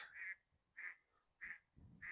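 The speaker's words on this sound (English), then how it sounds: "plenty of duck life." Ducks on water near a lakeside give four evenly spaced, nasal quacks, faint and somewhat distant, with nothing else heard between them.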